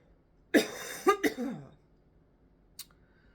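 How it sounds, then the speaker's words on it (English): A person lets out a harsh, wet cough in three close bursts over about a second, loud and near. Quiet follows, broken by one faint click. "Nasty cough."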